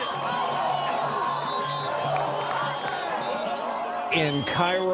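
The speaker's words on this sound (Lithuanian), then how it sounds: "Kaire, Egipte, minios žmonių šaukia ir rėkia." Crowds shout and yell in the streets of Cairo, Egypt, a dense, sustained roar of many voices at a middle distance. A single nearer voice cuts in at the end.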